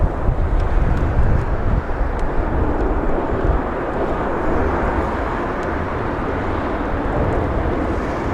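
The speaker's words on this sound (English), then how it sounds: "You want to go for the 767 instead? Delta Airlines." A Delta Air Lines Boeing 767 airliner at Los Angeles International Airport gives a loud, continuous broadband jet roar mixed with gusting wind noise, steady for several seconds with no talk.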